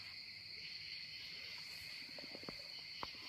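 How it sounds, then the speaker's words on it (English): Continuous high-pitched cricket chirping fills a quiet night in a forest, with a few faint ticks and taps of things dropping from the trees nearby. "Listen to the sounds of stuff falling from the trees and the crickets and stuff and the bugs"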